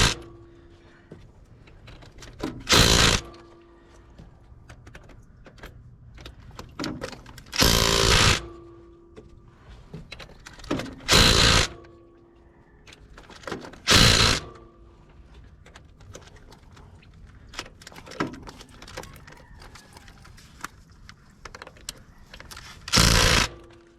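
A wrench tightens bolts on the flange drive of a Mendeola 2D transaxle. About six loud, short mechanical bursts come in separate bouts, each followed by quiet pauses with faint clicks.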